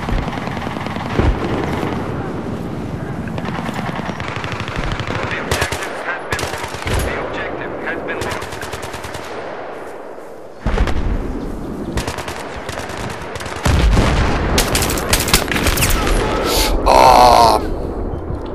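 Gunfire in a Battlefield-style video game on a Caspian border map, loud bursts of machine-gun fire and single shots against busy battle noise, with rattling volleys building toward the end.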